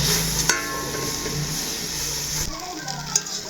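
Flour being stirred in a pan for white sauce, a soft steady sizzle and scraping with a few small clinks of the utensil against the pan, close and fairly quiet.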